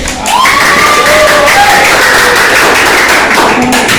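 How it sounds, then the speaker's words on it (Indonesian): Students in a junior Islamic secondary school classroom break into steady clapping mixed with sustained shouting and cheering voices, loud and close throughout. "Tepuk tangan dulu."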